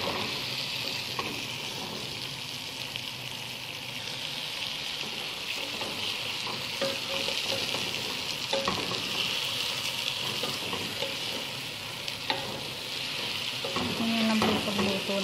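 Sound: chicken frying in a pan for chicken salona

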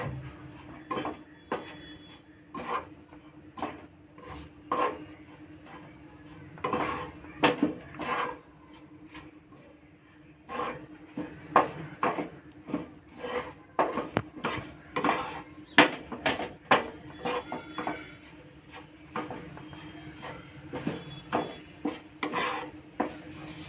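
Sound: roasting peanuts and coconut in a pan

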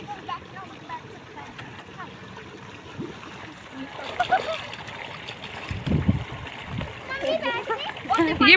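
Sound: child splashing and playing in water

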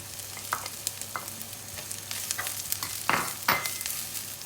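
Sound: stirring radish into sautéing garlic and spices in pan

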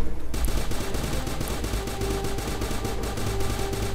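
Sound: gunfire in the video game Starbound

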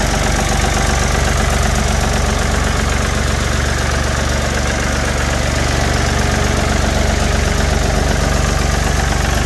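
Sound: vehicle engine idling

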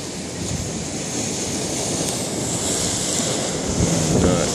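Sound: lake waves splashing over a pier

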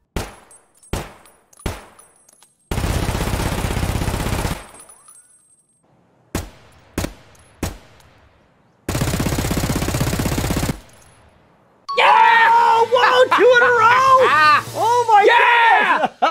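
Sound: KRISS Vector submachine gun shots

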